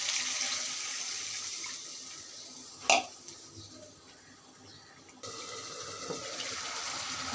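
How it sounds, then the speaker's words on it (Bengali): Water poured into a pot of chicken curry after the meat has been browned, a short splashy pour near the start with steady kitchen hiss and a shift in background noise partway through. "এখন আমি একটু পানি দিয়ে দেব।"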